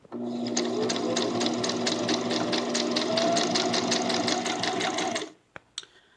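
A sewing machine stitches a baby bib, running close and loud in a steady rapid buzz for about five seconds before stopping, followed by a few faint handling clicks.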